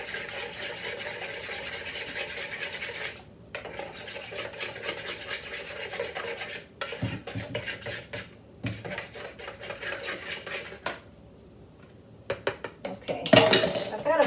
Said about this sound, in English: Fork here just to make sure I get it mixed up very well.